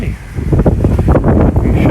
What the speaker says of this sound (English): That's the wind rattling this thing and shaking it.